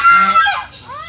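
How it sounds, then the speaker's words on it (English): A goose at a zoo in Negros Occidental, Philippines, gives a loud, close, nasal honk that lasts about a second and then trails off, with no talking over it. "That's a goose."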